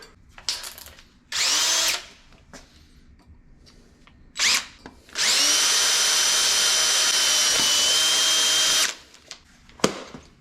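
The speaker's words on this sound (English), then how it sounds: "can I actually drill through it with the old worn out drill bits I have" A power drill with old, worn bits whirs in short bursts, then grinds steadily for several seconds through metal on a 1964 Buick Riviera, with clanks and handling noises between runs.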